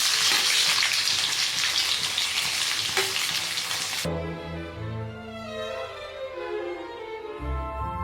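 Onions frying in butter in a pan, with a loud, steady sizzle that drops sharply midway as the pan settles into a quieter crackle, accompanied by faint clinking and stirring sounds.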